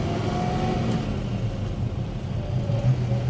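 A restored, numbers-matching 1969 Chevrolet Camaro SS 396 drives on the road, heard from the passenger seat as a steady, loud low engine rumble with road noise and no talking.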